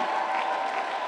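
Church congregation applauding, a brief, dense, steady wash of clapping from a crowd, fairly loud and continuous throughout.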